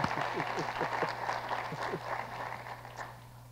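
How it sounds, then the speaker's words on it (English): Scattered audience applause at a university State of the University address, fairly faint and thin, with a few distinct claps standing out over a low steady hum in the room. "You can go ahead and clap."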